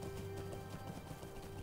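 Horse hooves clip-clopping in a steady, continuous rhythm while riding through The Lord of the Rings Online, moderately close and alone, with no voices over the gallop.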